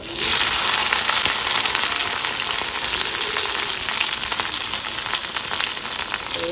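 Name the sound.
mustard seeds spluttering and frying in a pan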